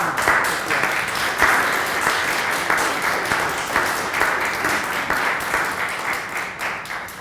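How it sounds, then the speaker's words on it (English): Sustained applause from the audience at a university policy seminar, a full, even wash of many hands clapping that continues for several seconds before easing slightly toward the end. "I was going to ask everybody to applaud one more time, but they preempted"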